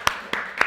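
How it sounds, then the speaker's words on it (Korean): Three sharp, separate hand claps ring out close and evenly spaced in an indoor gathering, sparse rather than a full round of applause. "박수 한번. 박수."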